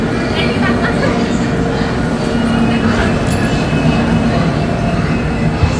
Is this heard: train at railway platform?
yes